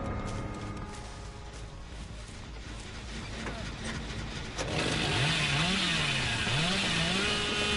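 The Hillbilly's chainsaw in Dead by Daylight revs up with a buzzing engine whine that climbs and wavers in pitch, loud and close over steady game background noise.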